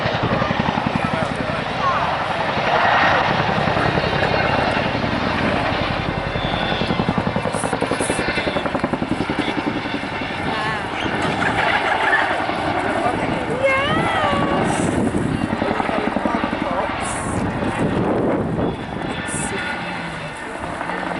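A Chinook helicopter roars overhead during a flying display at the Duxford summer air show, a loud, sustained rotor drone with a heavy rhythmic thump, while a voice talks over the din.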